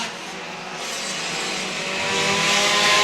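Pure stock race cars roar around the track at Star Speedway, a continuous loud engine drone swelling as the pack draws nearer, with no speech heard.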